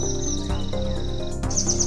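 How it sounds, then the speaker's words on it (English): Beautiful nuthatch calling in a mossy Bhutan woodland, with clear high chirping notes in two bursts at the start and end, heard alone over a steady low background hum. "a sleek streak of blue glides along a mossy trunk, the beautiful nuthatch"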